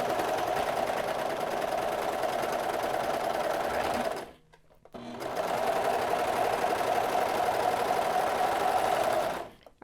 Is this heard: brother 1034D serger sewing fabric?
yes